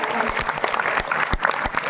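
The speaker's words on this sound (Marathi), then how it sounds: "एका महाराजांसाठी जोरदार टाळ्या" A kirtan audience claps in a dense, sustained burst of applause, many hands at once, loud and close, with a voice mixed in underneath.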